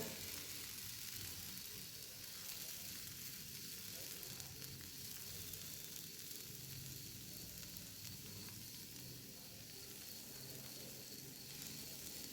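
A wheat-flour samosa sheet roasts on a hot pan, giving a steady, quiet sizzle that holds evenly throughout with no break and no talk.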